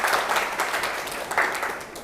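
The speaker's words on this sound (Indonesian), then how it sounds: "aplaus untuk Nurevania" Applause from a classroom of students fills the whole moment, a dense steady patter of many hands clapping together at close range with no voices on top.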